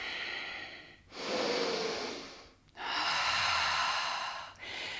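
Deep, slow breaths during a power yoga session: two long, airy breaths of about two seconds each, separated by brief pauses, with the start of a third, close and clear with no talking.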